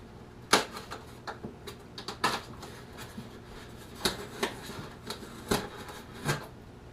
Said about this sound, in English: let me get a razor blade, cut some of this off